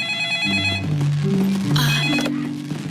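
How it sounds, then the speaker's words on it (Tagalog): An electronic telephone ring trills at the start and again briefly, beneath a low melodic tone sequence in the foreground. "May tumatawag sa telepono?"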